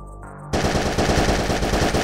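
Rapid automatic gunfire from weapons in the Wild Planet video game follows a brief quiet lead-in. It comes as a loud, sustained burst of evenly spaced shots with no voice over it.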